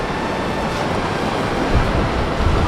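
Sea waves wash in at a Konkan beach where the water runs deep, a steady broadband roar of surf that swells slightly near the end, with no voices over it.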